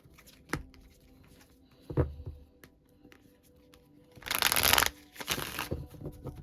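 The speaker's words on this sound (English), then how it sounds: "I'm going to put all this back and reshuffle." Tarot cards are handled with a few soft taps and flicks, then riffled in two quick shuffling bursts near the end, close and fairly quiet.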